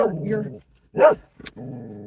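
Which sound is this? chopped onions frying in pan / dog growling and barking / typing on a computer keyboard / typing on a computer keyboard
dog growling and barking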